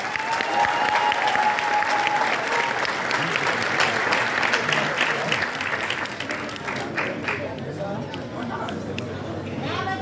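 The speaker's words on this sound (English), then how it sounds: "One last round of applause for carpentry." Graduation audience applauding carpentry students, a dense steady wash of clapping that carries through the whole stretch and thins slightly toward the end, with crowd chatter and scattered voices underneath.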